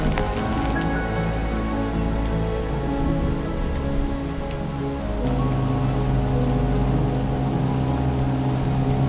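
Heavy rain falling on the Rio Negro in the Brazilian Amazon, a dense, continuous hiss of drops striking water and surfaces, close and loud, with no voices.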